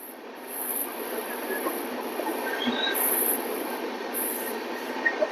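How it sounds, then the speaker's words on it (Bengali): The Humsafar Express running on the rails through Chhattisgarh, a continuous rumble with high metallic wheel squeal coming and going, heard from inside the moving train. "দারুণ ট্রেন জার্নি হচ্ছে হামসফর এক্সপ্রেস"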